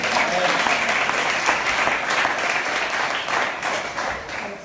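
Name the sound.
congregation applauding the Lord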